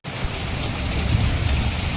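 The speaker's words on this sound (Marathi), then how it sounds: "जबरदस्त पाऊस लागता" Heavy pre-monsoon May rain pours steadily onto roofs and ground in the Konkan countryside, a dense unbroken hiss with no voices.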